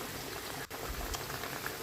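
Kofta curry with potatoes and water bubbles steadily in a pan, a soft continuous simmering hiss with faint pops, close and alone.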